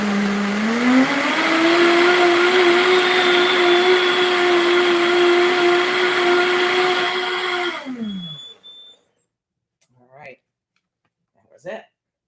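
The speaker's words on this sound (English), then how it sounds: "here we have our blender. Excuse me, I'm going to make a little noise." A blender whirs loudly and steadily for about eight seconds, then winds down and stops, followed by a couple of brief clatters.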